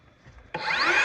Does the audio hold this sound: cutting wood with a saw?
yes